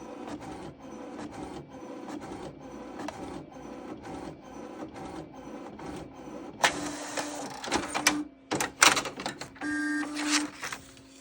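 An old HP inkjet printer whirs and clicks in rhythmic passes as the print head shuttles, then louder mechanical clunks and rasping feed sounds near the end.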